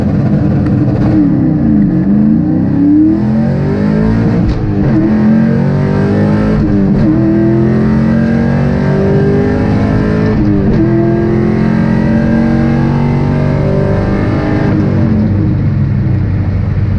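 An LS1 Camaro accelerates hard at a track day, its V8 engine roaring loud and close as the pitch climbs repeatedly through the gears, with rough vibration near the top end and brief dips at each shift.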